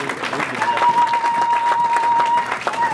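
A church congregation at a Pentecostal consecration service claps steadily and loudly for about three seconds, with crowd voices mixed in and a sustained tone holding underneath.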